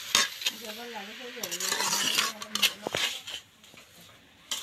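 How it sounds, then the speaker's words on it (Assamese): Grated coconut being fried for coconut laddu is stirred in a pan with a metal utensil, giving irregular scraping and clinking over a soft sizzle. The sound is close and fairly quiet. "সেইকাৰণে নাৰিকলখিনি ভাজি আছে"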